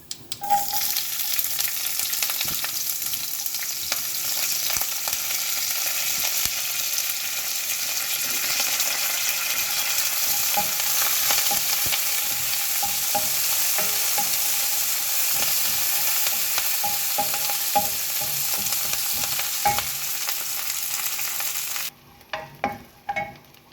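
Shallots, ginger, curry leaves and green chilies frying in hot oil for upma, a loud, continuous close-up sizzle and crackle with scattered stirring scrapes, cutting out abruptly near the end.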